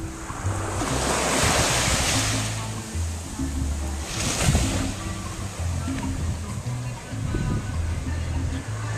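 Surf rolls onto the beach at Playa Santa, Puerto Rico, in steady washes with two louder swells, mixed with wind buffeting the microphone and no voices.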